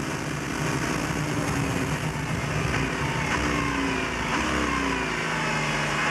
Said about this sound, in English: You hear more wind than motor.